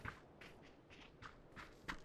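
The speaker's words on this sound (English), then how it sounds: "I might have heard footsteps." Faint, quiet footsteps crunch in a steady rhythm of about six steps in a PUBG match, sounding at a distance with no talk over them.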